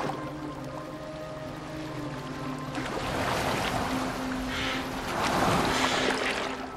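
A boat moves over water in Assassin's Creed Valhalla, with a steady wash of waves and hull splashing that swells louder partway through, under a low sustained musical drone with no talking.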